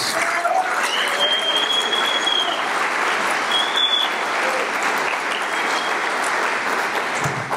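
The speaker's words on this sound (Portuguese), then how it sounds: "Pode aplaudir mais." A church congregation applauds loudly and steadily, dense sustained clapping filling the room from start to finish, with a few faint voices and whistles mixed into the noise.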